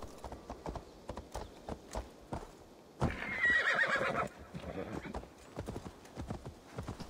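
In Assassin's Creed Valhalla, rhythmic horse hoofbeats clip-clop steadily throughout, with a loud horse neigh bursting out midway before the galloping continues.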